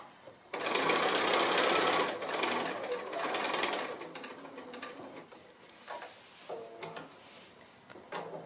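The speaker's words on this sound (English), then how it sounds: "I'm stitching down onto the front, I machined it onto the back first" A sewing machine stitches binding onto the front of a quilted table runner, running in a loud steady burst for several seconds, then dropping to shorter, quieter runs with pauses as it works around a mitered corner.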